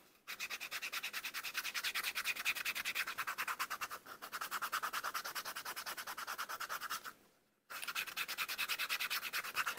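A popsicle stick is rubbed briskly along a leather edge in fast, rhythmic scraping strokes. The sound is close and continuous, with two short pauses between runs.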